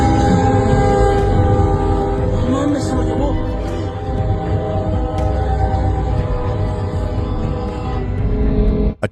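A train rumbles steadily nearby with a continuous loud mechanical drone and a sustained horn-like tone, ending abruptly.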